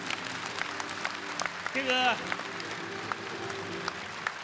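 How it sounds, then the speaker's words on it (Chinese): An audience claps steadily at the final of a national Yue opera competition, a continuous wash of applause under a voice speaking. "掌声再热烈点好不好？"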